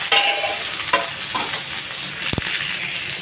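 Chopped onions and tomatoes sizzle and fry steadily in a pan for a spicy kara chutney, with a couple of stirring scrapes and a brief utensil clink, and no one talks.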